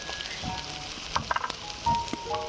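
Ginger, garlic and spices sizzling as they fry in hot oil, a steady crackle with a few sharp pops and stirring clinks, heard close with no talking.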